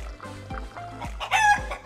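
Chinese silkie chickens cluck in a steady low rhythm, then one lets out a brief, higher crowing call near the end.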